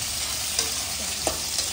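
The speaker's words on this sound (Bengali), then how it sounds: "আমি একটু নুন দিলাম, আলুটা ভাজতে ভাজতে লাল হয়ে যাবে" Potatoes frying in a pan with a little salt, a steady soft sizzle running throughout with a few faint stirring scrapes near the middle and end, close by and with no one speaking.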